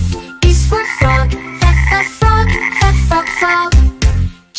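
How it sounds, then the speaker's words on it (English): A frog croaks loudly and close up in a steady run of about seven deep, throaty croaks with short gaps between them. "F is for frog"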